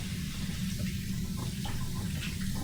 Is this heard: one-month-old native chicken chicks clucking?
no